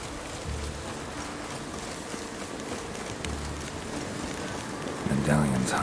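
Steady rain hiss from The Witcher 3, falling over a city, a continuous broadband wash with a louder swell near the end as a low tone enters.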